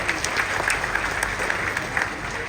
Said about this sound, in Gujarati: આવો વિચારથી જે વ્યક્તિ આગળ વધી રહ્યા છે એવા સાહેબને જોરદાર તાળી